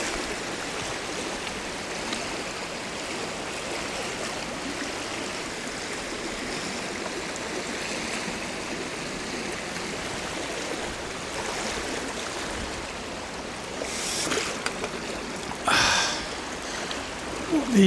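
Steady river current running through a pool on a grayling river in snowy conditions, a continuous broadband rush of flowing water throughout, with a brief louder splash or disturbance near the end.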